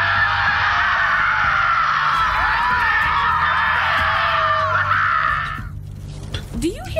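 Shrill, sustained screaming from characters in the Borderlands 3 video game, a loud continuous wall of overlapping cries lasting about five and a half seconds before cutting off, followed by faint game ambience.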